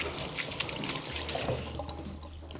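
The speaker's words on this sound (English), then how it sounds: "Give it a rinse." Tap water runs steadily over a cucumber being rinsed in a kitchen sink, a continuous close splashing stream that softens slightly toward the end.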